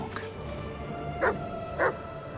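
A dog in the video game Baldur's Gate 3 gives two short, clear barks close together over a steady background hum, with no voices.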